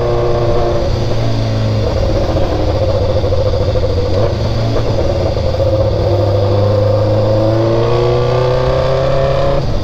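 A BMW motorcycle from 2015 or later with a quickshifter revs hard, the engine roaring loud and steady throughout, its pitch sweeping up and dropping as gears change.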